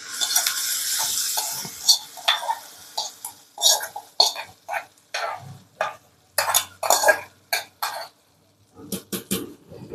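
Spoon scraping and clinking in a pot as fried curry-leaf tempering is mixed into pongal, a run of irregular close knocks and scrapes with brief pauses and a short quiet gap near the end.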